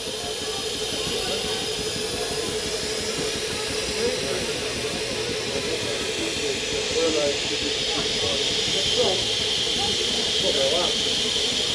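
LNER Flying Scotsman steam locomotive, number 60103 built in 1923, hisses steam in a steady, loud, continuous roar close by as it prepares to reverse, with faint voices in the background.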